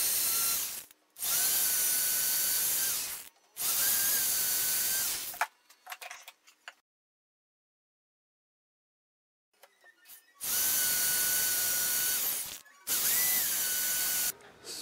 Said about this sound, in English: all I need is to drill a quarter inch diameter hole